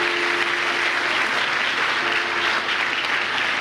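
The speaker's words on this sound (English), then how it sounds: "Can you see the agape and all the children clapping their hands?" Children at a church service clap their hands continuously, a loud, dense, even applause that holds throughout, with a faint steady tone and little talk beneath it.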